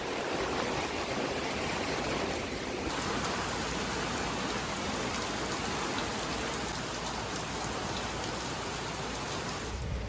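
Steady rain from an ex-tropical storm pouring onto a sailboat on the Chesapeake Bay, a dense, continuous hiss of drops drumming on surfaces, loud and close with no voices.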